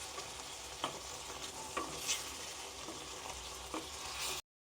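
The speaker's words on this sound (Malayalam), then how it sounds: "അപ്പോൾ നമുക്കിനി ചെറുതായിട്ട് ഇതൊന്ന് ഇളക്കി കൊടുക്കാം." Crab roast sizzles steadily in a pan, with a spatula scraping and stirring through it every second or so, close and continuous.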